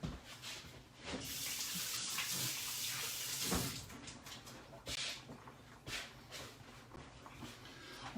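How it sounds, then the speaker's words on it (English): Hands being washed under a kitchen tap, running water splashing into the sink in uneven bursts as the hands move through the stream, soft and close with no talk. "let me wash a hand here."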